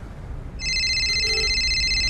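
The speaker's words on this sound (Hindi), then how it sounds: "किसका फोन है देखो?" A telephone starts ringing partway through, a steady electronic trill at close range against a quiet room hum, with no speech.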